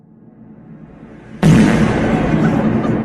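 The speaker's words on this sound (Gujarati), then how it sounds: "ચાલો મિત્રો, હવે રાહ જોયા વિના હવે કરી દઈએ આપણે પેટ્રોલ બમને ફોડવાની તૈયારી" A homemade petrol bomb firecracker set off for Diwali bursts suddenly after a low rumbling lead-in, one loud close blast followed by a sustained roaring rush of noise that holds steady to the end.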